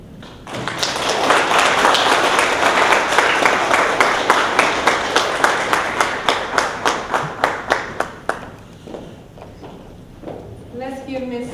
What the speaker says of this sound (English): Let's give Ms. Taplin another round of applause.